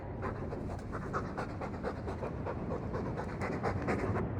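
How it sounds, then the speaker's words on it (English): Continuous, fast dog panting from Dragon Age 2, close and fairly loud, with an even breathy rhythm that never pauses. "All that noisy dog breath, day in, day out, make him stop."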